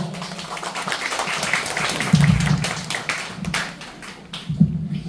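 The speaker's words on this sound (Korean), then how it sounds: "다시 한번 뜨거운 박수 부탁드리겠습니다" Applause from a seated audience at a Korean small-business association gathering, a steady patter of hand claps with a few louder thumps, fairly close and continuous throughout, with no talk over it.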